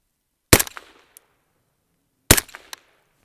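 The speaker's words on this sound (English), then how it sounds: "it's a very loud 22 rifle, let's put it that way." Two suppressed shots from a PSA JACKL .22 rifle outdoors in snow, heard unprotected: sharp loud cracks about two seconds apart, each followed by a short metallic clatter from the action.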